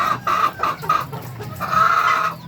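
Sixteen-week-old ready-to-lay hens cluck nearby in short repeated bursts, with a longer drawn-out call near the end and no voices.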